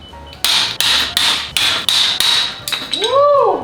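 Epoxy bond test samples are broken with a series of about seven sharp, loud impact cracks at a quick irregular rhythm, each with a brief ringing tail, ending in a wobbling metallic ring.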